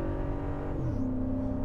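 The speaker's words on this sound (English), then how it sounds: "The engine is just so much smoother because of those new mounts." Mercedes CL65 AMG V12 engine idling with new exhaust manifolds and mounts fitted, a smooth continuous low rumble with a slight pitch shift midway and no talk.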